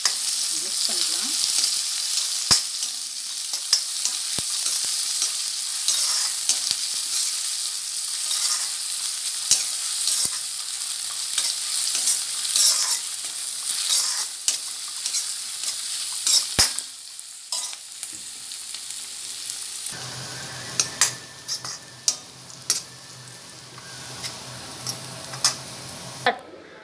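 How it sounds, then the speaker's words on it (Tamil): Onions frying crisp in a pan for chicken sukka, with steady crackling sizzle and scraping stirs throughout, changing to a lower, heavier sizzle near the end as they are mixed into the chicken; no talk. "வெங்காயம் போட்டு நல்லா முறுமுறுன்னு ஃப்ரை பண்ணி அந்த சிக்கனில் போட்டு"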